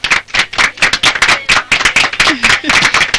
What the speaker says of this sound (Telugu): చూసావా నువ్వు పాడిన పాటకి ఎంత అప్లాజ్ ఉందో.